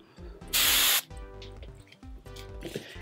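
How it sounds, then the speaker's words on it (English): Hairspray from an aerosol can, one loud half-second hissing burst directed at a wig being styled, followed by softer handling and brushing noises. "Give her a nice coat of hairspray and smooth it."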